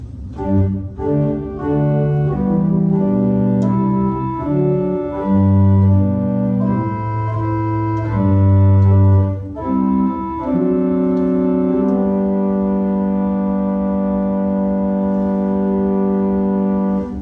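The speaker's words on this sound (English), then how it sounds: "is an 8-foot open diapason, which sounds like this." Mellow, steady pipe organ tones on an 8-foot open diapason stop play a slow sequence of sustained notes, ending on a long held chord.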